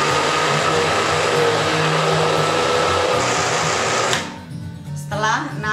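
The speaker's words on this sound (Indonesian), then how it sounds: "kita blender ya," A blender runs at high speed mixing panna cotta, a loud steady whirring drone that cuts off abruptly near the end, leaving quieter kitchen sounds.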